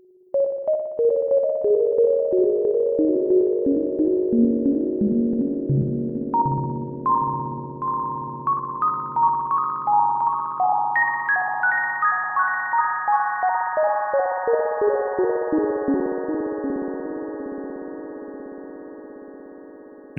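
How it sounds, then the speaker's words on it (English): A digital delay with crossfeed repeats a stepped sequence of pure electronic tones, each note echoing and stacking into a dense, reverb-like wash that rises in pitch and slowly decays at the end. "It's actually starting to border on a strange kind of reverb at this point."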